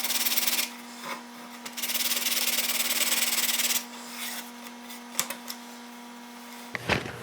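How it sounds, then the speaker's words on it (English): Heavy grit sandpaper rubs across the fins of a handmade fishing lure in one direction, coming in close scratchy bursts of strokes separated by brief pauses. "using a fairly heavy grit sandpaper and sanding in that direction"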